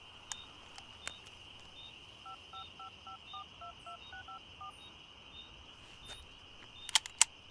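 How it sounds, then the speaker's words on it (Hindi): A telephone is dialed, a quick run of beeping keypad tones in even steps over a steady high electronic hum, followed by a couple of sharp clicks near the end. "पहले फोन करना है, बीवी से बात करनी है"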